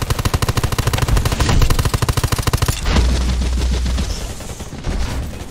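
Loud rapid automatic gunfire aimed at a robot in the video game Undawn, a fast rhythmic stream of shots for several seconds, then heavier continued firing, close and without talk.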